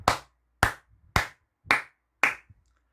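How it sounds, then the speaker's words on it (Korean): Five separate, sharp hand claps spaced roughly half a second apart, close and crisp with brief silences between them and no talking. "너무나 기분 좋은 소식이기 때문에 크게 박수 한번 치고 가도록 하겠습니다."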